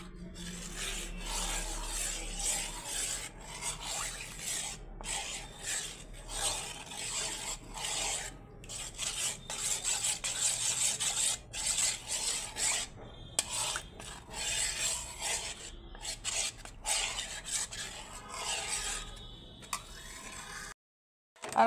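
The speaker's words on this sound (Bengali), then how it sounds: "এতে আমি তেল ব্রাশ করে রেডি করে রাখছি" A brush spreads oil across a cooking pan with steady back-and-forth rasping strokes, close and continuous, with no talking.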